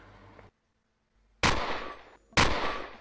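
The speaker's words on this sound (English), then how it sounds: "Who is shooting me?" Gunshots in the sci-fi survival game Empyrion Galactic Survival, fired by a sentry or cyborg: two loud, sharp blasts a second apart, each with a ringing tail, after a short quiet gap.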